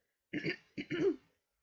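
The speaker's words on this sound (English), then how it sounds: "Sorry about the cough." Two quick, close coughs, the second slightly longer and throatier, with silence around them.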